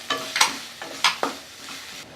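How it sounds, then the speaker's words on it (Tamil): A spoon scrapes and stirs coriander powder and garam masala into sizzling tomato masala in a pan, giving a few quick, close strokes over a soft frying crackle. "எல்லாமே சேர்த்துட்டு லைட்டாக ஒரு வாட்டி கலந்துக்கலாம்."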